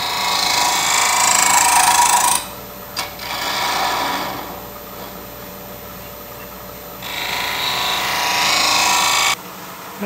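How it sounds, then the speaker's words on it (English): A skew chisel used as a scraper shaves a small wooden toy head spinning on a wood lathe, giving a steady, loud rasping scrape in two long stretches separated by a quieter, softer passage. "Go back to my skew chisel"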